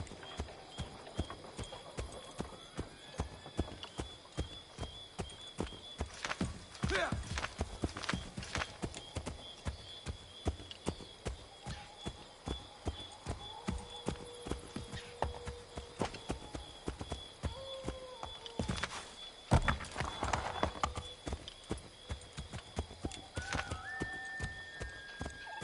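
Horse hooves clip-clop in a steady rhythm in Assassin's Creed 3, with occasional whinnies and neighs, moderately close over a faint game ambience.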